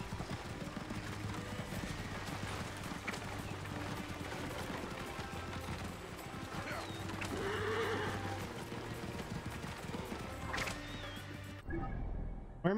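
Horses neighing and whinnying with clip-clopping hooves in the video game Assassin's Creed Origins, amid continuous game noise with occasional crashes and gunfire-like bursts, fairly steady throughout before a brief drop near the end.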